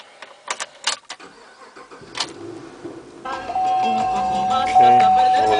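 A red 2011 Chevrolet Camaro SS with a V8 and automatic transmission starts up: a few sharp clicks, then the engine cranks and catches, settling into a steady, rumbling idle.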